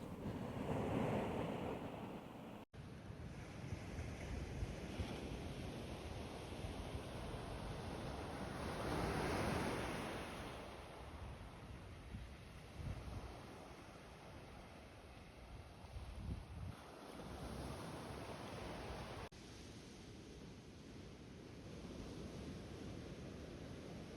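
Waves breaking on Southbourne Beach at a big spring tide, a soft repeating surge and wash of surf with wind buffeting the microphone, quiet and distant, swelling in slow cycles with no voices.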